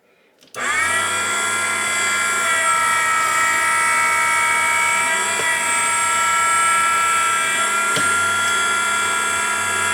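A Henderson precision trimmer trimming a rifle cartridge case: its motor starts abruptly and holds a loud, steady, high-pitched whine close by for several seconds, with no talk.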